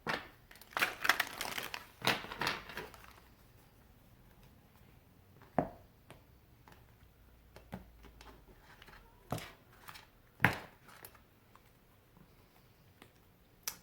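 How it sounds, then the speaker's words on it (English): Tarot cards being shuffled by hand, bursts of crisp riffling and slapping cards in clusters, with quieter gaps and isolated sharp taps between them, close and otherwise alone. "More shuffle."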